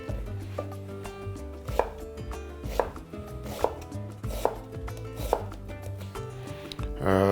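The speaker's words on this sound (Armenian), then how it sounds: "դա կարմիր սոխն է։ Կտրատում ենք կիսաօղակների։" A knife cuts a red onion into half rings on a board, about seven to eight distinct chopping knocks at a steady, unhurried pace, close and clear, with no talking.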